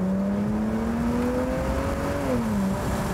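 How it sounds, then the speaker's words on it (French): A BMW 335ci with a 300 hp engine accelerates from a standstill in an open-top car, its engine note climbing steadily in pitch, close and loud, before easing off near the end; no one speaks. "qui a un son magnifique pour monter de 0 à 80 avec un moteur de 300 chevaux"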